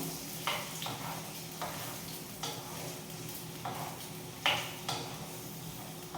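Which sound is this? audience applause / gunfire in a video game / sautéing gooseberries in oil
sautéing gooseberries in oil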